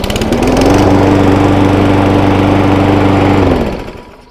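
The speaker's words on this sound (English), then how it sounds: "So let's see whether the mower actually starts first time." A Mountfield SP53 petrol lawn mower engine, pulled by its recoil starter, runs loud and close with a steady droning hum for a few seconds, then winds down and fades out.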